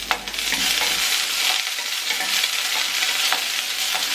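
Shallots, dried red chillies and curry leaves fry in hot oil, giving a steady close crackling sizzle with a few sharper pops and occasional stirring scrapes, no voices.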